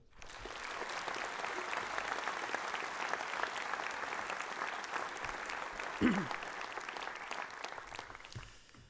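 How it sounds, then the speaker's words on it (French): Applause from an audience at a town's New Year greetings ceremony, honouring gendarmes just introduced; steady dense clapping for nearly nine seconds, moderately distant, with a brief low voice near the end. "Vous pouvez les applaudir"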